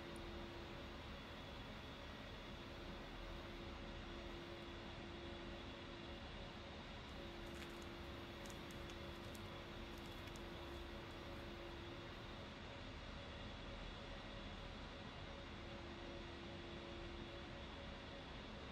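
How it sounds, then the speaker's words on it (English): Twin engines of an A-10C attack jet idle in a flight simulator cockpit, a steady, faint droning whine with a sustained tonal hum that holds level throughout, without any voices. "With both engines now up and running, you can also turn off the APU."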